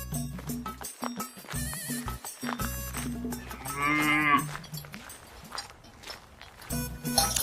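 A water buffalo gives several drawn-out moos and lowing calls in a rural farm setting, close and loud, with breaks between calls and some background clatter.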